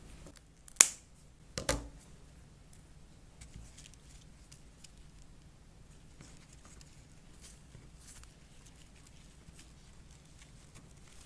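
Scissors snip twice in quick succession, cutting yarn or material on a stick weaving craft for kids, followed by a quiet room with faint handling noises.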